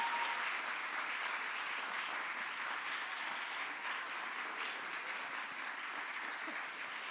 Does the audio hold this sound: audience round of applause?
yes